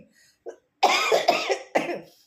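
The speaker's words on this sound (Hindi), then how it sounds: "खांसी आ रही है" A few harsh coughs close to the microphone, one short burst followed by a longer fit and a final cough, with no talking.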